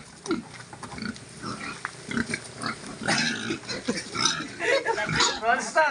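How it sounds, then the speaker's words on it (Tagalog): Pigs grunt and oink repeatedly at close range, loud irregular snorts piling up over the clip while people talk nearby. "hirap na hirap sa baboy"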